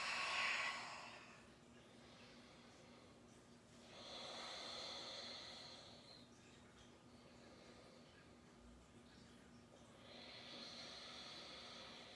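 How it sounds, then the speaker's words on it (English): Deep yoga breaths drawn in and pushed out in slow, long whooshes, three clear breathy waves spaced several seconds apart, close and soft, with no talking. "Big back body breaths."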